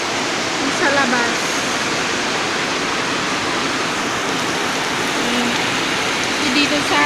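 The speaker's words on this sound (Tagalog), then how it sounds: "yung lakas ng ulan dito sa amin" Heavy rain pours down outside in a dense, steady roar that stays constant and loud throughout, with no break or change in intensity.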